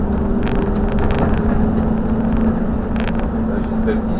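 A road vehicle heading back to the depot accelerates with a continuous, loud, close engine roar and broadband road rumble. The noise holds steady throughout with faint crackle on top.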